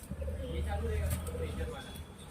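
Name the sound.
pigeons cooing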